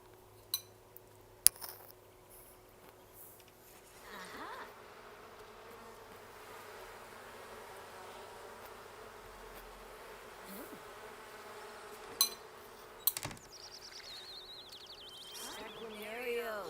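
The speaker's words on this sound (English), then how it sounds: "let's collect our honey, collect our beeswax, and bond with our little bees" A hum of bees at a beehive in The Sims 4 plays faintly and steadily, mixed with soft game ambience and a few clinks, with no talk.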